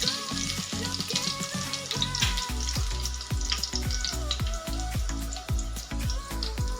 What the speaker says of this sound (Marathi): 1 लसणाची कुडी ना अशा पद्धतीने ठेचून घेतलेली आहे आणि 2-3 कढीपत्त्याचे पानं हलकासा कलर चेंज होईपर्यंत तेलामध्ये ना तळून घेऊया।